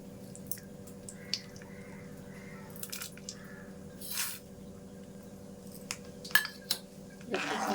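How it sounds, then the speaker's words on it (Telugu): Tempering spices frying in hot oil in a pan for poha upma, soft scattered pops and crackles with short sizzling bursts over a quiet background hum, fairly faint and close. "కొద్దిగా అలా ఫ్రై అయిన తర్వాత తాలింపు దినుసులు కూడా వేసేద్దామండి."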